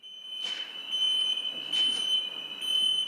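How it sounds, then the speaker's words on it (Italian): A fire alarm goes off during an evacuation drill, sounding as a steady high-pitched electronic tone with repeated pulsing bursts, loud and close, with no talking. "Scatta l'allarme acustico e visivo."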